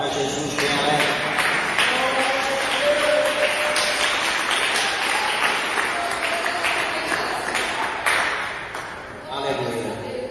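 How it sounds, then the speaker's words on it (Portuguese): Church congregation clapping together in praise during a worship service, a sustained wash of applause with a few rhythmic claps, strong and close, while a voice speaks over it. "dê uma salva de palmas para Jesus bem alegre"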